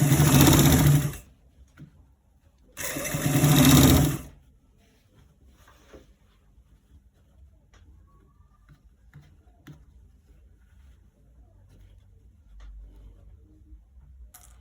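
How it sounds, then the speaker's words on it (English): A sewing machine runs in two short bursts while stitching a collar roll, each a steady whir lasting about a second, then stops, leaving near silence with faint handling and small clicks. "So we are stitching it. We are stitching it right."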